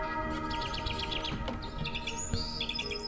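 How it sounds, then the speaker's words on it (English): A dense morning chorus of chirping, tweeting birds fills the air at Laguna Atascosa Wildlife Refuge, with overlapping calls at close and middle distance and no voices. "how do you beat the morning chorus of birdsong?"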